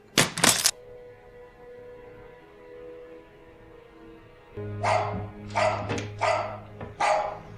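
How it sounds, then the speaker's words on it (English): A dog barks in short sharp bursts, first a single loud bark, then after a quiet pause four or five barks in an uneven rhythm over a low steady hum, fairly close. "dog."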